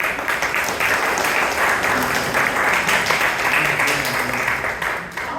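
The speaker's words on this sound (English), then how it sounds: "So big round of applause." Sustained applause from the audience at a Toastmasters club meeting in Bangalore, a dense, steady wash of many hands clapping at once that holds for several seconds before tapering slightly at the end.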